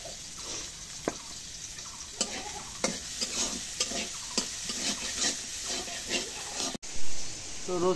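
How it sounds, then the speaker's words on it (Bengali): Garlic and chillies stir-fry in oil in a pan, a soft continuous sizzle broken by repeated scraping stir strokes at an uneven rhythm, close up, with a brief louder clatter near the end and no talk. "তো রসুন আর মরিচগুলো ভাজা হয়েছে"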